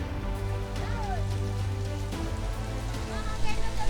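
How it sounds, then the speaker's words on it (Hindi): Heavy rain from Cyclone Remal falls in Puri, Odisha, a dense steady wash of rain noise with brief faint tonal sounds layered over it. "बिल्कुल झमाझम बारिश हो रही है, लेकिन ये साइक्लोन का असर है, साइक्लोन रेमल का असर है"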